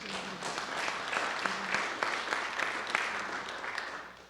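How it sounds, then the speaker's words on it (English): Scattered applause from a lecture audience at a spaceport talk with NASA Administrator Jim Bridenstine, fairly faint and distant, a loose patter of claps with a few sharper individual hits and a low hum underneath. "Did I hear some claps on that?"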